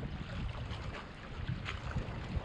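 Steady wind roars and buffets against the microphone at a land-based mulloway fishing spot on the shore, a constant loud rushing with gusty swells.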